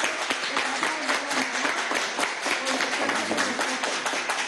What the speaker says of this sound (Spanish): mira, están aplaudiendo